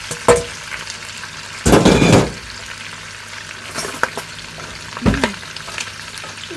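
Potatoes and bacon frying in melting butter with salt and black pepper, stirred with a utensil that scrapes and clatters in short bursts over a soft, steady sizzle, close up and without speech.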